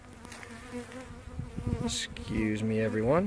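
Honey bees buzz at a hive while a queen bee is prepared for release, a close droning hum under a person's brief speech, rising and wavering toward the end.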